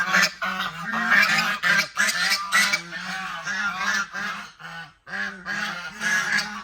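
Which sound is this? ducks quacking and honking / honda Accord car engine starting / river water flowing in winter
ducks quacking and honking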